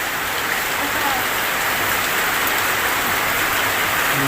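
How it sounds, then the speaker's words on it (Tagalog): Heavy rain pours down steadily during Typhoon Kristine in the Philippines, a loud, even hiss of drops drumming on surfaces with no break. "Ang lakas ng ulan."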